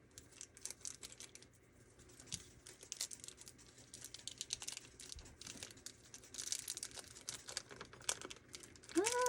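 Scissors cut open the plastic packaging of a Calico Critters toy set. Close, quiet crinkles and small clicks of handled plastic come in irregular bursts and grow louder toward the end.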